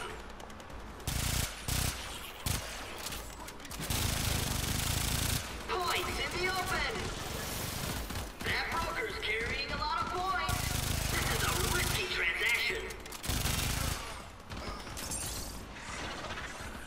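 Rapid automatic Baza Prime fire from the game Warframe, a tuned high-rate weapon, rattles in dense bursts with short gaps and mechanical clicks, loud and close under in-game effects and a talking voice.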